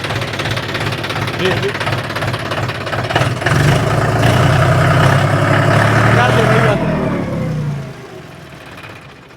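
A used tractor's diesel engine chugs steadily with a rough knocking idle, rising briefly louder before cutting off near the end; voices talk over it.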